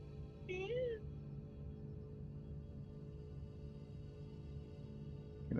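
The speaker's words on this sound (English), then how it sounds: "my cat has come to announce that she exists" Pet cat giving a short, rising, close meow once near the start, then only faint background hum and room noise follow.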